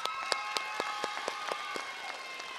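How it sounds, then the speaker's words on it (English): Audience applause at a graduation ceremony for an industry training initiative, steady crowd clapping with sharper individual claps standing out, moderately loud and continuous without speech. "I give you a round of applause"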